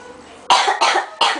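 Three harsh coughs in quick succession, close and loud, with brief gaps between them.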